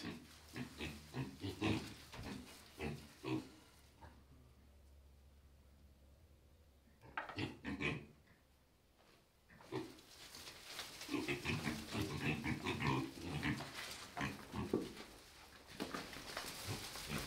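Pigs in a pen grunting and oinking in repeated bursts, loud and close, with a quieter stretch partway through before the grunts and snorts pick up again and keep going.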